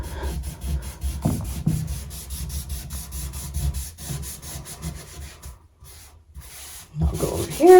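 Barkeeper's Friend cleanser is scrubbed into a bathtub in firm, gritty back-and-forth strokes, close and fairly loud, with a brief pause and faint voice near the end.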